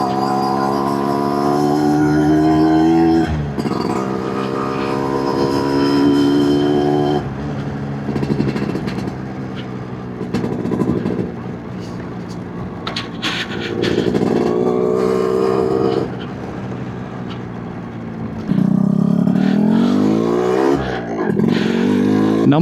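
A 1990s Japanese-made Yamaha RXZ two-stroke motorcycle is ridden, its engine loud and close with a buzzy, rising and falling rev note as it accelerates and shifts through gears.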